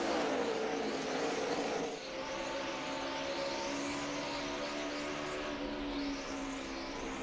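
NASCAR race cars circling the track at Dover during a 2010 Cup race, a distant roaring engine wash that swells as cars pass, heard faintly with crowd-like ambience and no voices.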